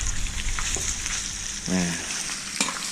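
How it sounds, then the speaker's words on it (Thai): Pork fat renders in a pan over a gentle charcoal fire on a biomass stove built from an air-conditioner refrigerant tank, giving a continuous bubbling sizzle with a brief tonal squeak and a clack near the end. "ผมจะเจียวน้ำมันหมู"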